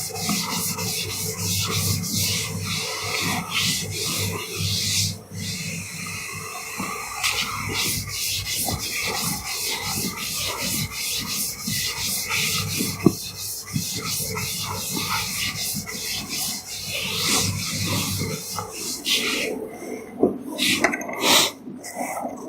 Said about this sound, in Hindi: इसे रब किए देता हूं मैं यहां से।